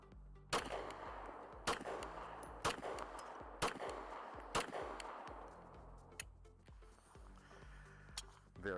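Canik TP9SFx pistol fitted with a Glock recoil spring and Glock pin, firing a weak load: about seven sharp shots at uneven intervals over a low background hum, each crack ringing briefly.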